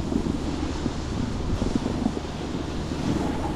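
Strong wind buffets the microphone high on a snowy mountain slope at Glenshee in Scotland in January, a constant rushing roar with gusty fluctuations and no voices.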